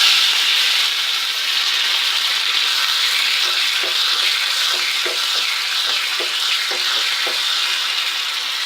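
Curry leaves and urad dal frying in hot oil for a vegetable kootu give a steady, loud sizzle, with sharper crackling pops bursting through in the second half.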